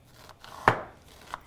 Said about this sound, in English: And I'm going to finish this onion right here.